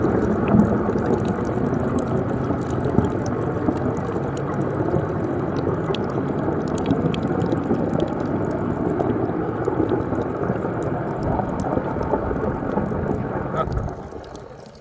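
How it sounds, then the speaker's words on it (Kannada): Water gushes steadily and forcefully from a burst motor pipe at a well, a loud continuous rushing roar that is close and unbroken, easing off slightly right at the end, with no speech. "ಇದು ನೀರು ಯಾವ ರೀತಿ ಬೀಳ್ತೈತೆ ಅಂತ ಕೇಳ್ಕೊಂಡ್ರೆ"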